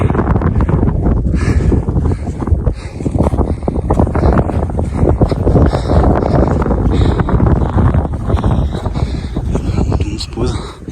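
Strong wind buffets the microphone high on a Corsican mountain along the GR20 trail, a continuous loud roar with gusty swells, voices talking faintly beneath it.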